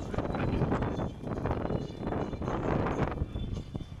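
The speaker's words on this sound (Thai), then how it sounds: "เสียงลมนะฮะจะแรงหน่อยนึงนะฮะ" Strong wind gusts buffet an outdoor funeral gathering in Thailand, rushing in waves of fairly loud, rough blowing noise. The gusts swell and ease over a few seconds, with no speech.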